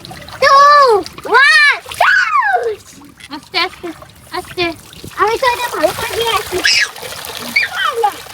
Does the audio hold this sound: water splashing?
yes